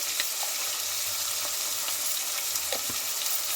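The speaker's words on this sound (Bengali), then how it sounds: "এবার মাংসটা আমি তেলের মধ্যে ভালো করে ভাজা ভাজা করে কষিয়ে নেব" Chicken meat frying in oil in a pan, a steady close sizzle with soft crackles and occasional spits and pops, continuous and fairly quiet, no voices.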